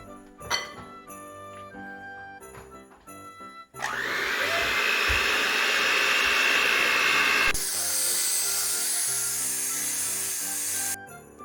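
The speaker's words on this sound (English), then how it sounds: "now let's mix it up with the hand mixer" An electric hand mixer whirs loudly and steadily through gingerbread dough for several seconds, preceded by scattered clatters and handling noises, with a shift in pitch midway and an abrupt stop at the end.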